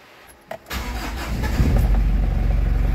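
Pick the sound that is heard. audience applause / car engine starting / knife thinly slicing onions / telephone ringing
car engine starting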